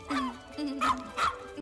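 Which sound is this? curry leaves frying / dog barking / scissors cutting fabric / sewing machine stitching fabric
dog barking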